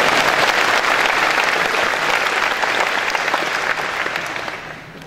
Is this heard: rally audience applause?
yes